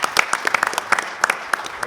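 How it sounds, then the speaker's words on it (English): An audience at a medical lecture on hip instability applauds an honored professor: dense, steady clapping from a sizable crowd, close and fairly loud, filling the whole moment without pause. "a rounded applause, if you would, for our honor professor today, Dr. Hanssen."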